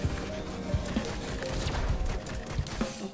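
Rapid secondary weapon fire in the video game Risk of Rain, a dense stream of punchy shots and impacts layered over busy game sound, loud and continuous throughout.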